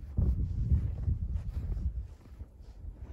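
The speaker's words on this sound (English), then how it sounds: "It's windy, but the snow is so damp, it's not getting blown off the trees." Wind blows across a snowy winter landscape with damp snow on the trees, a low rumbling buffet against the microphone that gusts strongly at first and then eases off.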